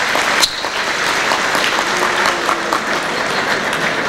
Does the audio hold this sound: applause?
yes